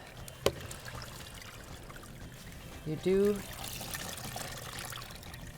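Water trickles and drips from wet llama fleece as it is wrung out, a soft, steady patter under brief speech, with one short louder pour partway through.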